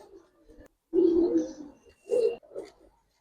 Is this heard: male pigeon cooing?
yes